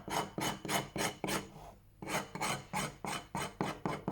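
An old steel chisel scrapes back and forth across a waterstone in about eleven even rasping strokes, close and clear, with a short pause partway through before the rhythm resumes.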